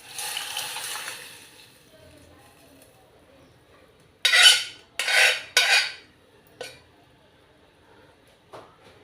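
Boiled tamarind water being added to cooked spinach dal (palakura pappu): a few quick splashy pours and clinks of a utensil against a pot, faint simmering hiss before, near and fairly quiet.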